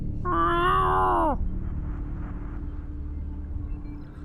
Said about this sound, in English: Oh, cat! It's cat!